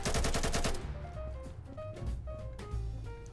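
Gunfire in the video game Burst, a rapid burst of loud shots at the start followed by scattered game sounds and tones.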